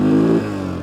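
An old motorcycle roars loudly in first gear, revving hard for a fraction of a second before the engine note drops abruptly as the throttle eases, close by.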